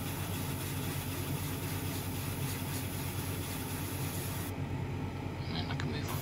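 An airbrush sprays Mr. Surfacer Grey primer onto the inner parts of model Alfa Romeo Giulia Quadrifoglio wheels, a steady, loud hiss with a low compressor hum that runs unbroken and thins slightly near the end.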